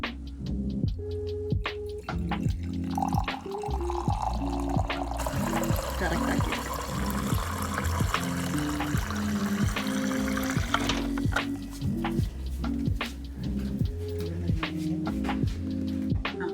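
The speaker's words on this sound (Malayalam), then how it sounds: "ഓക്കെ, നമുക്കിതിനെ ഇതിനകത്തേക്ക് പോർ ചെയ്തെടുക്കാം." Fresh homemade apple and mint juice is poured into a glass, a soft continuous liquid trickle beneath a steady humming background with rhythmic tones, lasting several seconds.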